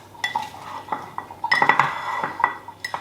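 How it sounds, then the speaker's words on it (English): Sliced apples tossed with lime juice in a bowl: continuous close clinking and scraping of a utensil against the bowl, with rhythmic stirring strokes and sharp chinks, no talk. "And you're going to mix everything through the apples."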